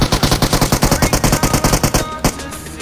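Rapid automatic gunfire in a video game battle, a loud steady burst of evenly spaced shots for about two seconds, then a couple of heavier blasts as the firing stops.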